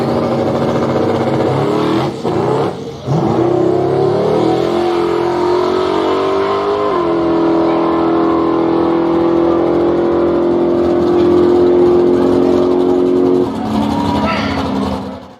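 A twin turbo Chevy and a nitrous big block car launch in a drag race, engines roaring loud and steady with a long rising howl that holds for many seconds, while voices talk over it.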